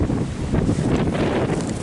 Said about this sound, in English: Ah, it's so windy.